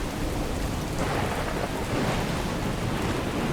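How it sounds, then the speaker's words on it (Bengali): Heavy monsoon downpour pounds surfaces at night in a Bengal village, a dense continuous roar of rain with rumbling thunder rolling underneath, loud and unbroken. "রাত একটু বাড়তেই মুষলধারে বৃষ্টি শুরু হলো। বৃষ্টির যা আওয়াজ, তাতে পাশাপাশি বসে কথা বললেও কষ্ট করে শুনতে হয়।"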